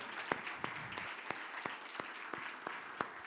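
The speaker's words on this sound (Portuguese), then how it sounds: "Uma salva de palmas para eles." An audience at a sales-mindset lecture applauds the volunteer event staff with sparse, evenly spaced claps, each a sharp crack, over a low steady room murmur; the clapping stays fairly quiet and distant throughout.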